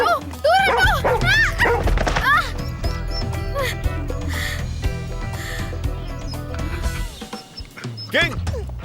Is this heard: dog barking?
yes